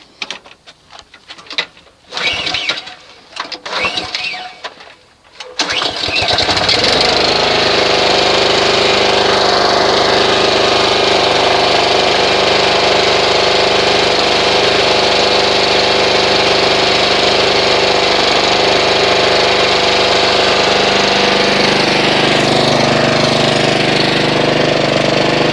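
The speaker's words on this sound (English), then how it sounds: "go ahead and test start the engine" A Honda HRX217 lawn mower's small engine sputters briefly, then catches and roars steadily at full loudness, running continuously with a harsh mechanical drone.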